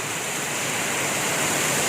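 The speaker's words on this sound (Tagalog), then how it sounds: "Napakalakas talaga ng ulan ngayon guys, no?" Heavy rain pours steadily during a storm with strong wind, a dense, continuous roar that stays loud and unbroken throughout with no voices.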